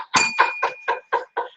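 A small bell on a table is struck repeatedly, six sharp dings in an uneven rhythm, each with a sustained metallic ring that carries on beneath the following strikes, close and fairly loud with no talking.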